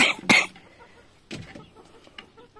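Backyard chickens give a few short clucks, a sharp call at the start and softer ones later, close by with quiet gaps and no speech.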